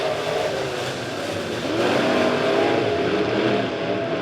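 B-Modified race cars in heat races on the dirt oval at Springfield Raceway, heard as a loud, continuous roar of racing engines that swells slightly as the cars pass.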